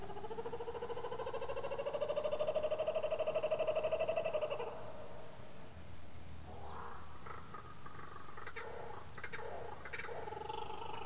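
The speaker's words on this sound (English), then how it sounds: "the laughing kookaburra." A laughing kookaburra call from a PC zoo game: a long, rhythmic, pulsing cackle that swells and cuts off, followed by fainter chattering bird sounds against a soft background.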